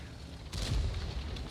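A single cannon shot in a tank video game, a heavy IS-3A-style battle, lands as a muffled boom about halfway through and rolls into a low, rumbling tail over steady engine noise.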